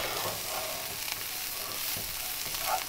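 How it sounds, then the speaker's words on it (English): Brussels sprouts stir-fry in a hot pan, Indian style, giving a steady close sizzle and crackle with faint stirring scrapes throughout, no voices. "In goes our Brussels sprouts, all of it. Let's give it a good mix."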